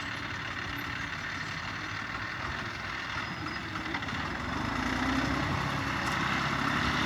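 Tractor engine working a large rice field during land levelling, a steady droning hum at moderate distance that swells slightly toward the end, with no talk.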